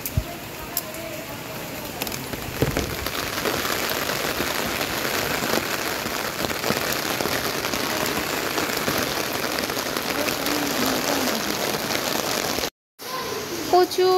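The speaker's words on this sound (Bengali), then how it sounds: "দেখো সবাই, বাইরে কত বৃষ্টি হইতেছে" Heavy rain pours down outside in a dense, steady hiss of drops striking surfaces, loud and unbroken for the whole stretch apart from a momentary dropout near the end.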